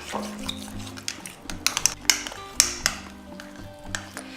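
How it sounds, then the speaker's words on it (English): Slime being stirred in a bowl, with scraping and stirring strokes, a few sharp clinks of utensil against the bowl, and steady background music throughout. "So now that I am done mixing and it stopped sticking to the edges of the bowl"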